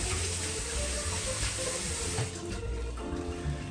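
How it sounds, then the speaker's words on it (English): Hands rinsed under a running kitchen tap, a steady close rush of water with splashing changes as the hands move through the stream. "Wash the hands real quick."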